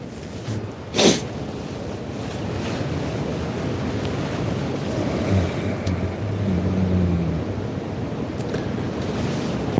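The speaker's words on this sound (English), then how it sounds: "That wind whipping like it is" Strong cold wind whips steadily around a hunting ground blind in sleet and fog, a loud, continuous rushing roar buffeting the microphone, with one sharp burst early on and no talk.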